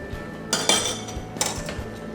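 Spoon stirring tomato sauce in a pan, two bursts of metallic scraping and clinking against the pan, close and fairly loud over a low background hum, with no talk.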